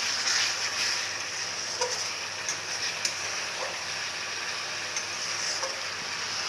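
Spices sizzle in hot bubbling oil as mustard paste is stirred in, a steady close hiss and crackle with occasional small pops and scraping, no talking.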